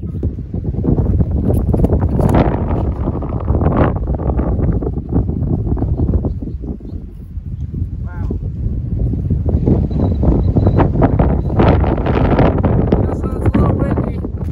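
Strong wind blusters across the microphone outdoors on a disc golf course, a loud rumbling roar with gusts that rise and dip throughout.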